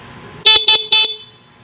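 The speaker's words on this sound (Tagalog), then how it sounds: "Pag hindi pa nakapindot at bumusina tayo, stock horn yan." A stock car horn blares three short, loud honks in quick succession, each a bright steady tone, close up and alone against a quiet background.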